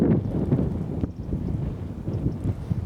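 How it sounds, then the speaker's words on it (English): Wind gusts across open countryside on a walk near Amberley, a loud, steady buffeting rumble against the microphone that swells and dips throughout. "Wind's starting to pick up"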